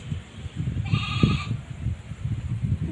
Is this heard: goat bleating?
yes